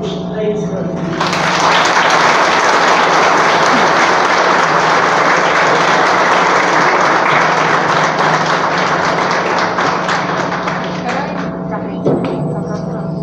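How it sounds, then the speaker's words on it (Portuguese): A church congregation at a memorial mass breaks into sustained applause, a dense, even wash of many hands clapping that swells quickly, holds steady for about ten seconds, then fades out. "Peço uma salva de palmas"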